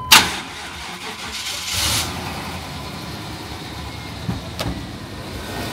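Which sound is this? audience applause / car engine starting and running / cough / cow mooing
car engine starting and running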